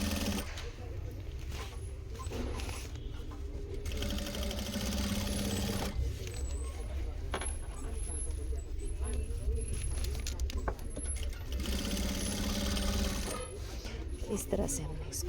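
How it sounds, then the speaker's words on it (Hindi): A sewing machine stitches a belt onto a saree, running in a steady close mechanical whir with brief pauses and restarts while someone talks over it. "बिल्कुल बराबर से आपने इसको पीछे तक सिलाई कर लेना है।"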